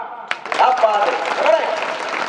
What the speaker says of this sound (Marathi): टाळ्या वाजवायच्या.